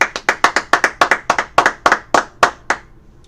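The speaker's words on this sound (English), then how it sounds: "All right, clap it up." Sharp, loud hand claps, about a dozen in a slightly uneven rhythm, close by, slowing and spacing out before stopping.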